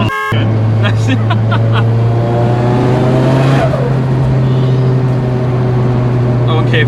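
A forged SR20 engine in a Nissan S15 drift car holds a steady loud drone, revving up through rising harmonics and settling again, with people talking over it throughout.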